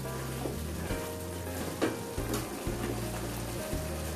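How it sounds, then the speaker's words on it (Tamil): Chicken masala gravy sizzles and bubbles steadily in a pan while a spoon stirs it, with soft scraping knocks at irregular intervals, close and alone. "நல்லா அது கிளறி விட்டுங்க."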